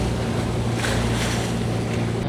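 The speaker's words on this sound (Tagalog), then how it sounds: "Grabe yung mga alon, umakampas sa bato." Rough sea waves crash against rocks at El Nido, Palawan, heard as a loud, continuous roar of surf and wind mixed together, with no one talking.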